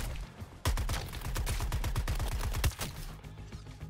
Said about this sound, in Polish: Ale jakoś te ich strzały nie są za szybkie